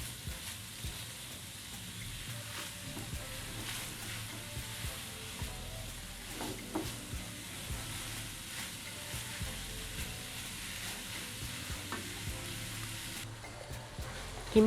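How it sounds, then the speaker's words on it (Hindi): Half a kilo of minced keema frying in hot oil for keema do pyaza curry, giving a steady close sizzle with faint scraping stirs throughout and no talk. "और हम इसको अब फ्राई करेंगे कीमे को।"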